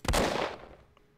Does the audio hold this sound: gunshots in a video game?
yes